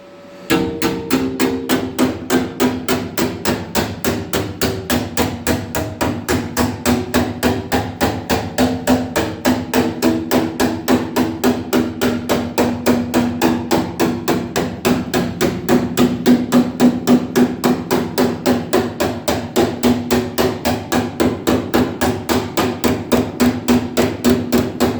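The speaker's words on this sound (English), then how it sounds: "start hammering this down" Steady, rapid hammer blows shaping a metal car body panel, continuing for the whole stretch at an even, fast rhythm with sharp ringing metallic strikes, close and loud, no talking.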